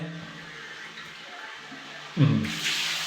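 Shower water fed by a 62-gallon pressure tank resumes with a sudden gush partway through, rising into a steady loud hiss after a quieter stretch of faint flow.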